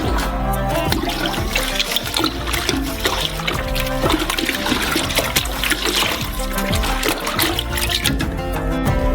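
Orange juice, sugar and flavoring churn in a large batch with continuous loud sloshing, splashing and gurgling liquid close by, steady throughout.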